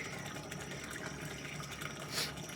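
Water from a well pump pipe pouring into a tank, a continuous fairly quiet splashing rush with a brief brighter gush near the end, no talking.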